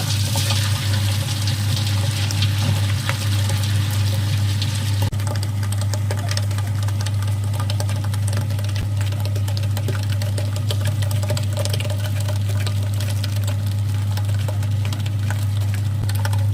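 Loud, continuous whirring of a mixer grinder motor grinding chutney with a little water, churning steadily throughout, with no talking.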